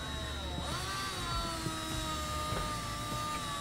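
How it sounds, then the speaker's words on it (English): Electric hand mixer whirring steadily as it beats eggs, a continuous high motor whine with slight pitch shifts, close and alone. "Why use a whisk or a fork or anything when you could use a mixer? A hand mixer."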